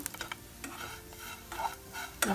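Grated coconut roasting in a pan, with a steady low sizzle and repeated scraping stirs, close and fairly quiet, no voices.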